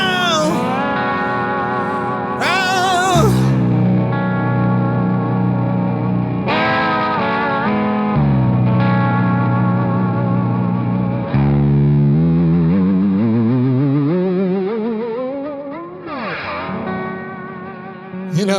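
Sacred steel guitar in a church setting wails through sliding, bending notes and sustained chords, loud and heavily effected with distortion and echo, swooping up and down in long vocal-like phrases for nearly twenty seconds.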